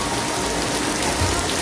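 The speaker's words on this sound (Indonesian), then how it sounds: "Hujan sebenarnya udah 3 hari ya, hujan gak gede-gede" Light rain patters steadily at the Pasar Induk Cibitung wholesale produce market in the morning, an even, continuous wash of drops on surfaces with no talk.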